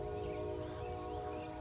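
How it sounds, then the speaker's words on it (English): A train rolls past with a steady broadband rumble and a sustained tonal drone, fairly loud and continuous throughout, with no voices. "That damn train."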